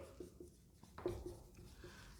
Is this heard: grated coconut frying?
no